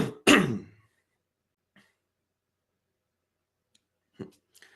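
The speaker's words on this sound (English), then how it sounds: "trying to get this cough out" A man coughs hard once and clears his throat, followed by quiet and a few faint clicks, then a short second throat-clearing sound near the end.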